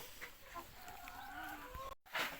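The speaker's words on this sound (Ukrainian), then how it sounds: "У нас заквоктала квочка." A broody hen on a farm clucks in soft, scattered calls at close range, with a brief louder burst near the end; no talk.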